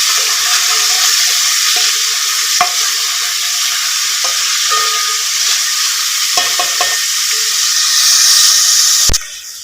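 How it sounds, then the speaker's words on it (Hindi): Onions fry in a pan over high flame, giving a steady, loud sizzling hiss with occasional stirring clinks and scrapes, and a sharp knock near the end. "देखिए आप देख सकते हैं फ्राई होना स्टार्ट हो गया।"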